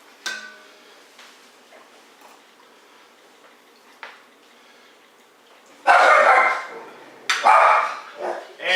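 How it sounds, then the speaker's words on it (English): A pet dog in a home kitchen barks in a few loud, close bursts toward the end, with faint scattered ticks and knocks before, no speech. "That was my dog."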